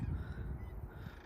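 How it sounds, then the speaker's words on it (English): Faint goose-like honks come from birds at a distance in a wetlands nature preserve, set over a low, steady ambient rumble. "There are a lot of birds back there."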